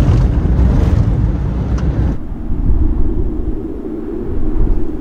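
A car rumbles and jolts along a bumpy, dusty desert track toward a sand dune in Kazakhstan, giving loud low-frequency engine and road roar with a sudden drop in high-end noise partway through and no talk.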